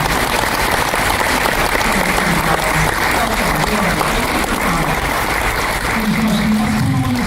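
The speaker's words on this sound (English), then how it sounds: "So everyone, please, a big round of applause for Denise Crosby." Loud, continuous audience applause from a convention panel crowd at a fan fest, dense clapping that holds steady throughout, with a voice surfacing near the end.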